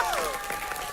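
Brief burst of crowd applause with scattered clapping, mixed with a sliding tone and background voices.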